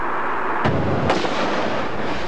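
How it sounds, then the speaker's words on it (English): Two sharp gunshots cut through a constant hiss of static on a police radio recording of the JFK assassination in Dealey Plaza, about half a second apart, muffled and distant rather than crisp. "At that point, the first shot is fired, and I will point out the shots as they occur."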